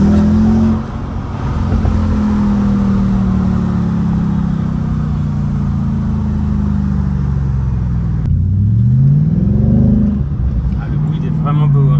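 Engine of an Audi S5 with 356 horsepower, heard from inside the car as it pulls and revs, a loud steady droning note rising and falling in pitch over about twelve seconds, with voices talking over it.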